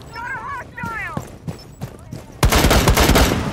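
An operator's gun fires in Rainbow Six Siege, a loud burst of rapid automatic shots entering abruptly after a stretch of game sounds and continuing to the end, with no talk.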